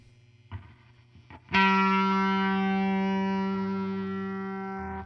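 Guitar through a Boss RT-2 rotary ensemble pedal with distortion at the slowest rotor speed: a few quiet picked notes, then one loud sustained distorted chord that rings out and slowly decays, barely wavering.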